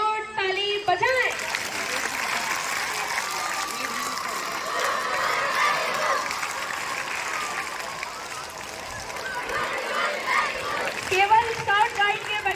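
Scout and guide children at a gathering in Varanasi clap together as a crowd, sustained applause and crowd noise mixed with voices, ending in a few sharper bursts.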